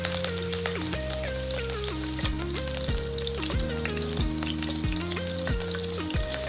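Green chillies, cut and dropped into hot oil for egg fried rice, give off a steady, loud sizzle that runs throughout, with melodic background music playing over it.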